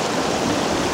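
Ice-cold mountain stream water in the Cairngorms near Braeriach, at the source of the Spey, flows in a steady, close, dense rushing wash.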